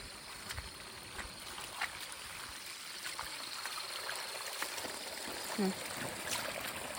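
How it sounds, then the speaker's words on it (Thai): Steady broadband rush of a flowing stream running continuously during light rain, with faint scattered knocks and splashes in the background. "ได้ได้ยินเสียงน้ำไหลอยู่ทุกคน"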